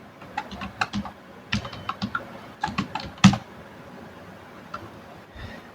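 Typing on a computer keyboard while designing a flyer, an uneven run of close, crisp key taps in quick bursts with a louder single press near the middle, trailing off toward the end.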